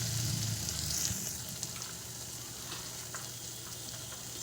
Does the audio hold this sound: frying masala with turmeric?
yes